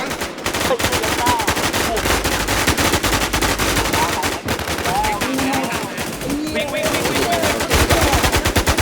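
Rapid automatic gunfire fills an online shooter match, with loud, dense bursts of shots and occasional sharper single reports repeating throughout.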